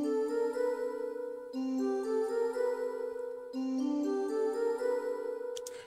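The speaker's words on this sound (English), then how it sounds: "So the choir synth sounds like this." A choir synth patch plays solo, rising scale phrases in sustained vocal-like tones, three long swelling passages with soft attacks, clean and steady with nothing else heard.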